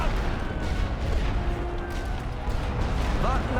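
Distant artillery fire shelling massed enemy infantry on a Great War Western Front battlefield in a strategy game, a steady low rumble of repeated booms and crackling gunfire with no clear individual blasts and no talk.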